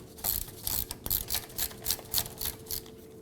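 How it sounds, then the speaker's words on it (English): A hand ratchet loosens a 15mm rear shock absorber bolt on a 2003-2014 Volvo XC90, with rapid bursts of crisp metallic clicks in a quick, uneven rhythm, close and fairly quiet. "You can use your ratchet, impact driver, or impact gun. Go ahead, loosen, and remove this."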